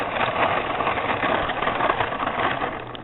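A Playmobil amusement park ride's small toy motor runs steadily for the whole stretch with a continuous mechanical whir, fairly close and with no talk over it.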